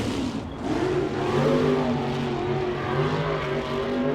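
A USAC National Sprint Car at Rossburg accelerates hard out of turn four, its engine note rising in a loud, sustained roar that rolls steadily across the few seconds with no talk over it.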